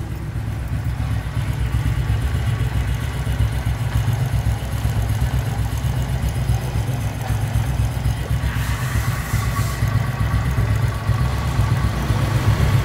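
A Honda Wave Thai 110 motorcycle engine runs steadily nearby, a loud, continuous low idle with a faint higher whine joining partway through, and no voices.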